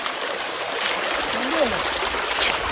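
Cold stream water runs over rocks along a trail near Shilbunia waterfall in Alikadam, Bandarban, a steady close rushing trickle that fills the whole stretch, with no talk over it.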